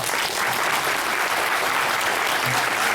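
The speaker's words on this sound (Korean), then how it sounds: "감독님 배우분께 큰, 큰 박수 부탁드리겠습니다." Steady, dense applause from the audience at a VIP premiere screening of an omnibus Korean independent film fills the hall, loud and unbroken throughout.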